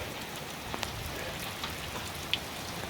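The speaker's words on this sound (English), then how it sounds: "First rain we've had in like a month and a half" Steady light rain falls outdoors near a Ford F350 Super Duty truck, a soft even patter with a few distinct drips landing close by.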